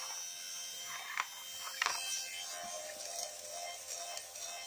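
An electric lint shaver buzzes over knitted fabric removing fuzz, a faint steady motor hum with small scraping bursts as it passes over the surface.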